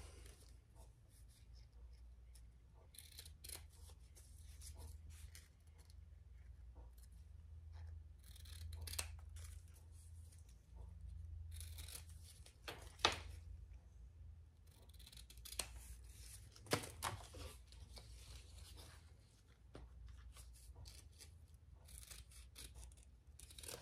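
Scissors trimming loose threads at the seam of a fabric bag, a few quiet close snips scattered over soft background handling noise.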